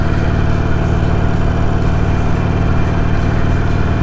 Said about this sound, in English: it's a typical Harley Davidson in the sound. It has the good 2-cylinder V sound